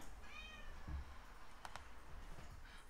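A cat meows once with a drawn-out, wavering call, faint against low background noise at a bushcraft campsite, followed by a couple of short clicks.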